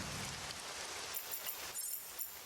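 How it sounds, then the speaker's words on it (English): Rain ambience in the video game Access Denied, a faint, soft hiss of steady rainfall with a few light patters and drips rising briefly near the end. "turn down the rain noise a little bit"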